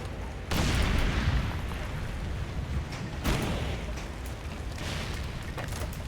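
A grenade explodes in the Far Cry 2 video game, a loud sudden boom followed by a rumbling decay, then a second, weaker blast with crackling debris trailing off.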